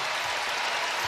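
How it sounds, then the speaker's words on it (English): Sustained applause and ovation from a packed arena at a UConn vs. Mercer NCAA Tournament women's basketball game as starters head to the bench, a dense steady roar of clapping with no break. "And now the ovation as the starters start to come out."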